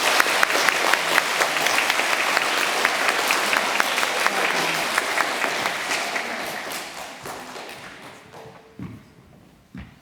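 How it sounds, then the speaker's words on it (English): Audience clapping for a Year Three pupil at a school presentation day, dense and lively at first, then thinning and fading over the last few seconds to scattered claps. "Everyone give her a big clap."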